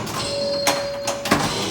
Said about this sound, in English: And that's what that sound is, the ding sound.